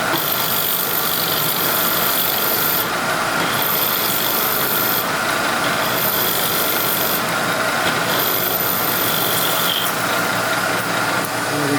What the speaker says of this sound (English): Chips are sticking to the tool as it gets heated up, so we'll use some oil and slow it down a little bit.